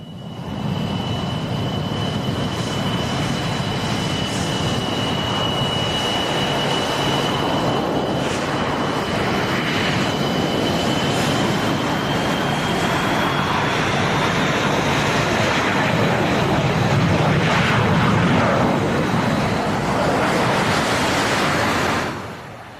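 Slovak Air Force MiG-29 jets at an airshow make a loud, sustained jet roar with a steady high whine, swelling slightly toward the end before fading.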